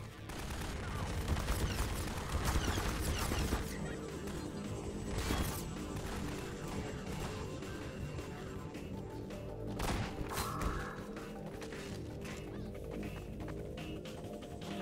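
Gunfire in Garry's Mod during a Half-Life 2 custom campaign, with dense bursts of shots, impacts and crashes mixed with game ambience and music-like tones, fairly quiet overall, heaviest in the first few seconds with scattered sharp hits later.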